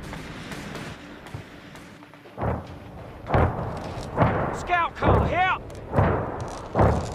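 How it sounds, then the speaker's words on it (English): Vickers machine gun fire from a Company of Heroes 3 battle comes as heavy thumping bursts spaced through the scene, with voices talking in between and over the shots. "Vickers firing on enemies!"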